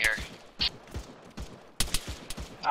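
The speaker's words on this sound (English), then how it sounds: "Taking heavy fire." Heavy gunfire in the video game Spartan 2, scattered sharp shots and short bursts at moderate distance, with a dense cluster of rapid reports near the end and faint voices in between.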